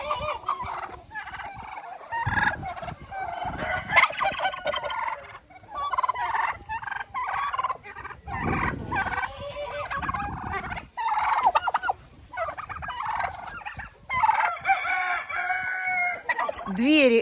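Turkeys gobble repeatedly in a noisy poultry yard, with chickens clucking and crowing mixed in, a dense, continuous chorus of birds close by.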